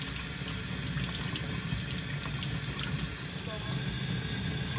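Tap water runs steadily into a sink, rinsing clogged, hair-matted brush parts of a Hoover carpet cleaner, a continuous close splashing hiss with no break.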